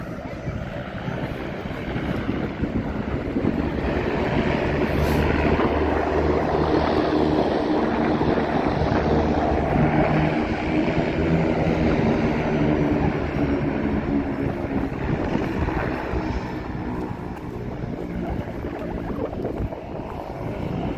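A seaplane takes off on the Vancouver waterfront, a steady droning engine roar that holds loud and constant across the whole stretch, with faint talk in the background.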